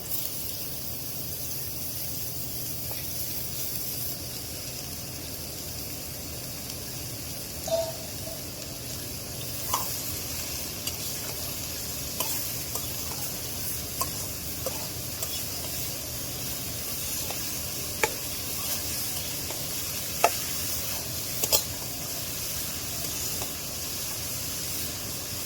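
Potato, carrot and papaya pieces fry in a pan with fried onion and salt, giving a steady sizzling hiss throughout with scattered faint clicks and scrapes of stirring.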